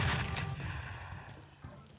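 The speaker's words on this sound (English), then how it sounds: "that grenade was exploded right next to this guy" A grenade blast in the video game Mafia 3 gives a loud, boomy burst at the start that rolls off into a rumbling decay, with a smaller thump near the end.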